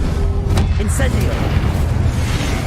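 An Incendio fire spell cast in Hogwarts Legacy bursts with a booming whoosh over dense low rumbling, loud and steady, with faint magical chimes and crackles layered on top.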